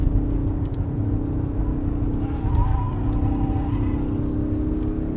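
Tyres of a BMW 740d xDrive sedan squealing under cornering load, a steady mid-pitched whine over continuous road and engine rumble, close and sustained throughout.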